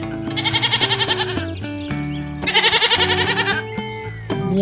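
A goat bleats repeatedly and loudly, several wavering, quavering calls in succession with brief gaps, close and alone with no talk.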